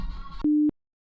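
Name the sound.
phone call tone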